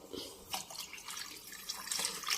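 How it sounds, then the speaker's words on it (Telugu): Water pours faintly into a pot of rice, a soft, continuous trickle and splash heard alone, without talk. "ఇప్పుడు కొంచెం వాటర్ వేద్దాం"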